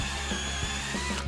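A power drill bores a hole in a workpiece to take a copper pipe for a solar cooker build, a steady, close motor whine with slight rhythmic variations in load throughout.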